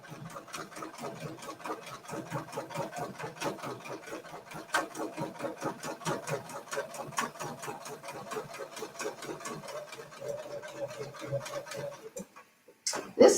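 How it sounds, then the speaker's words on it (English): A sewing machine runs steadily, stitching a quilting pattern along a template with a fast, even needle rhythm, close by, before stopping near the end with a brief clunk. "This time, what I'm going to do is now stitch right back and stop on my marked line"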